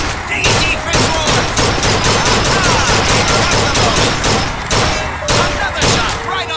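Rapid gunshots ring out at a shooting gallery in BioShock Infinite, a loud, closely spaced string of sharp cracks in bursts with brief pauses between volleys.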